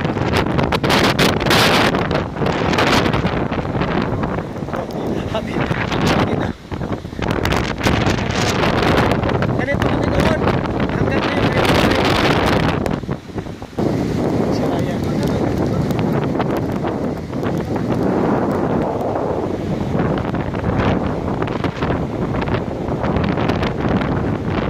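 Strong, gusty typhoon wind in Boracay roars and buffets the microphone continuously, a dense rushing blast with brief lulls, and faint voices partly buried beneath it.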